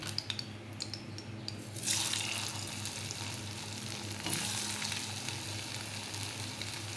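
Gulab jamun dough balls frying in warm oil over low heat: a continuous close sizzle with a few light clinks and stirring taps early on, and no one speaking.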